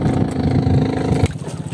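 Low rumbling fishing boat engine drone, steady and fairly close, with a putter that shifts slightly partway through.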